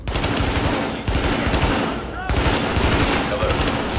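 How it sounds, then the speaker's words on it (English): Gunfire rattles in the video game Tom Clancy's The Division, loud sustained automatic bursts that fill the whole moment with a couple of short breaks between volleys. "Reporting gunfire in the station above us."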